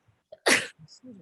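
A single loud, close sneeze breaks into a quiet county board meeting room, with faint murmurs and small sounds just before and after.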